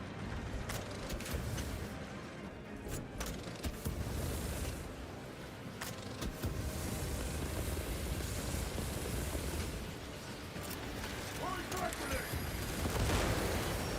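Dense, continuous battle noise in Warhammer 40k: Space Marine 2, with repeated gunshots and blasts layered over a roaring background, while a voice talks throughout.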